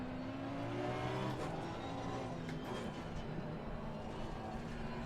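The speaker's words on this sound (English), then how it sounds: "it sounds exactly like the real GT3 car to me" A Porsche GT3 race car engine in Assetto Corsa Competizione drones steadily at high revs, close and continuous, with a slight shift in pitch partway through.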